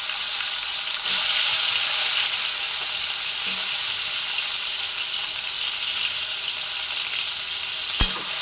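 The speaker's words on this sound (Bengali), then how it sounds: "তো কুঁদরি ভাজা হোক" Ivy gourd fries in a pan with a loud, steady sizzling hiss throughout, and a sharp clink of utensil near the end.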